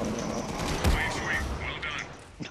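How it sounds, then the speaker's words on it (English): Gunfire in the video game Mass Effect 3: a dense run of rapid shots with a sharper burst near the middle, sitting in a busy game mix and ending in a sudden loud hit. "Maybe I should actually shoot the enemies."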